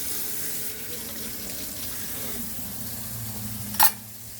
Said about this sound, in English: Can't believe I just walked away and left the water on.